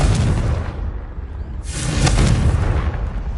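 The Confringo blasting spell in Hogwarts Legacy erupts in a loud, booming explosion with a rumbling tail, then a second sharp blast bursts and roars close up.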